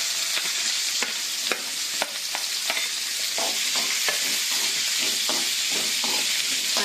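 Onion and dried red chilli fry in a pan with a steady close sizzle, broken by repeated clicks and scrapes of stirring, and no voices.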